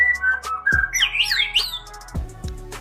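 A pet songbird sings loudly and close by, with rising and falling whistled phrases, sharp chirps and a few squawky notes in quick bursts, heard alone without any talk.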